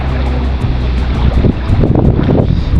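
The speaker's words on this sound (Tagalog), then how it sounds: "Ang lakas ng agos pa." Strong floodwater current rushing past, a loud, continuous roar and churn of fast-moving water with gusty wind noise on the microphone.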